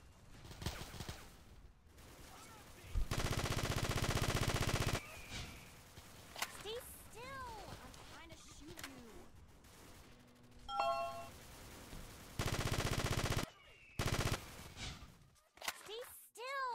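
A video game firefight: bursts of automatic gunfire come in loud blocks several seconds long, with scattered metallic dings and clangs and whooshing effects between them, while a player talks over the action.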